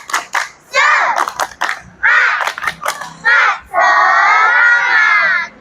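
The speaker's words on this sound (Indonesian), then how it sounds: "Tepuk semangat." A class of young schoolchildren in a PE lesson performs a rhythmic clapping chant, with bursts of claps and loud shouted chanting in unison, ending in a long sustained group shout.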